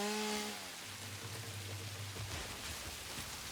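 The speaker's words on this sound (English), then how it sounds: "I love the rain. I'm so happy there's weather now." Rain falls in the video game Satisfactory, a soft, steady wash of patter and drizzle heard faintly alongside a low humming tone.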